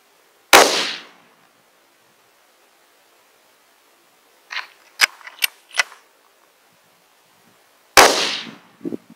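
Two sharp, loud 25-06 rifle shots firing 135gr Berger bullets at a 12-inch target one mile away, about seven seconds apart, each with a short decaying crack, plus a few metallic clicks between them.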